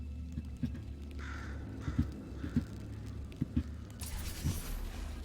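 A crow caws repeatedly in the video game Portal 2, several rough calls spaced irregularly over a steady low ambient hum.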